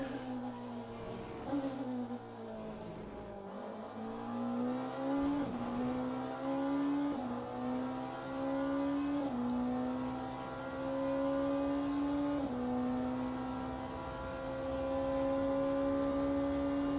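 A race car engine in a Le Mans racing video game revs hard and continuously, its pitch climbing and shifting through gears, loud and close with a whiny harmonic tone.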